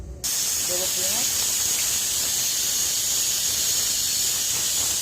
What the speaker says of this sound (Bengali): তেলটা গরম হয়ে গেছে, পেঁয়াজ দিয়ে দিলাম